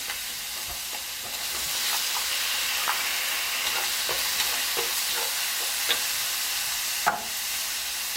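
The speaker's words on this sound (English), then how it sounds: "So just continue stir fry." Tofu stir-fried in a hot pan for mapo tofu, a loud close sizzle with intermittent scraping and tapping of a utensil, rising slightly partway through, no voices.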